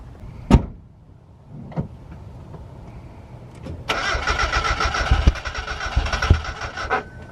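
A turbo Mazda Miata drift car's engine cranks after a couple of thumps and catches, settling into a loud, rough, uneven idle close by.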